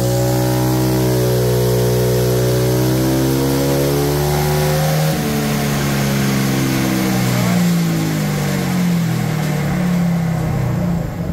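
A Honda PCX160 scooter engine revs hard on a dyno, its pitch climbing steadily for several seconds and then sweeping down and rising again. The loud, close motor drone runs continuously with no talking.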